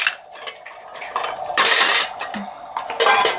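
A small metal toy frying pan and utensils clatter and scrape against each other in bursts of bright, close-up rattling.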